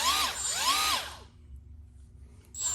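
A Milwaukee power tool with speed settings up to 24,500 RPM runs at high speed for about a second, giving a loud whine that sweeps up and down. It then stops, leaving quiet, and a short burst of whine returns at the end.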